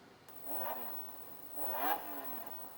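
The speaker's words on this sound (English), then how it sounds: "the standard Lamborghini engine sound" The standard Lamborghini engine startup effect on an Asus Lamborghini VX7 laptop, a synthetic car engine revving up twice in quick succession, played faintly through small laptop speakers.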